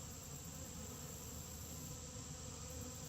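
Honey bees buzz in a steady, faint drone that stays constant throughout, with no other sounds standing out.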